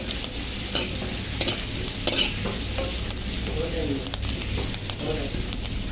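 Ingredients sizzle as they are sautéed and stirred in a pan while cooking laing, a steady close frying hiss broken by clattering scrapes of the utensil, with faint voices in the background.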